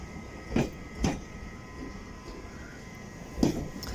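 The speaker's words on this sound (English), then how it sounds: "we've got a Piccadilly line train coming" A London Underground Piccadilly line train rolls into Cockfosters station with a low steady hum and a few rhythmic clunks of wheels over rail joints, heard from moderate distance.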